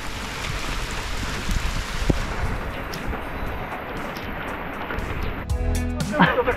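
Steady rain pattering outdoors at a feeder fishing competition on open water, a continuous dense hiss with occasional louder knocks and handling noises near the end.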